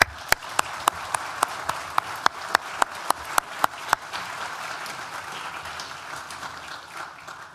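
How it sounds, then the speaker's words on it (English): Graduation ceremony audience at Nottingham Business School applauding university support staff: a regular series of sharp, prominent claps for about four seconds over softer crowd clapping, which fades gradually afterwards. "Please join me in thanking them with a well-deserved round of applause."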